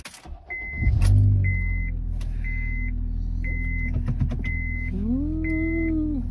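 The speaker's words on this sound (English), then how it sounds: "Let me turn on the car." A car starts with a short crank and catches into a steady engine hum, while a series of regular beeps repeats over it and a rising whine sweeps up near the end.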